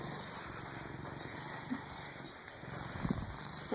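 A cat purrs faintly in a low continuous rumble during a meeting with a dog, with a few soft bumps and rustles near the end and no talking.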